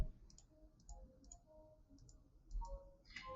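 Repeated mouse clicks in small paired bursts, close and fairly quiet, while shapes are selected one after another in Google Drawings with Shift held, no talking.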